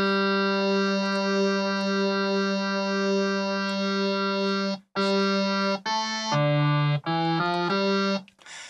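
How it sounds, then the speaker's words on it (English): A bright, buzzy Waldorf Iridium synthesizer tone with a detuned wavetable oscillator sustains with a thick detuned shimmer, then steps through several short held notes of shifting pitch, with brief gaps between. "maybe I want to detune that one."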